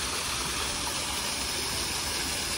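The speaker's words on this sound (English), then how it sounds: "Little waterfall there." Small garden waterfall at a lakeside shrine, heard as a steady, broadband rush of falling water with no talk over it.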